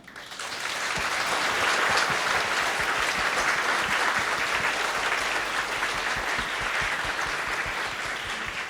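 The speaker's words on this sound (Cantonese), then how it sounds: "咁樣喺呢度我都邀請大家以你哋熱烈嘅掌聲去多謝佢哋啊！" A hall audience at a kindergarten graduation ceremony breaks into sustained, dense applause, loud and steady for several seconds before easing off slightly, with no talk over it.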